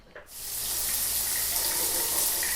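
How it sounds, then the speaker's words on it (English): Shower water starts after a short quiet moment, then runs as a steady, close rushing hiss with no voices. "it's time to hop in the shower"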